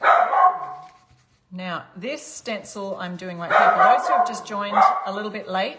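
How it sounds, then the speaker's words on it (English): A dog barks and yips repeatedly in the background while someone talks over it at close range. "sorry about the dog in the background"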